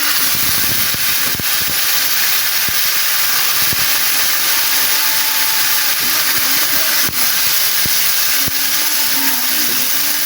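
Loud, continuous sizzling hiss of saag (leafy greens) hitting a hot pan, steady throughout with occasional crackles and clinks.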